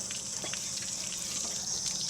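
Water running steadily out of an RV water heater as it is flushed, a continuous hiss and splash with small drips and gurgles on top.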